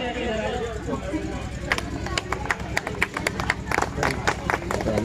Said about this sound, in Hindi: भाई ताली बजाते रहे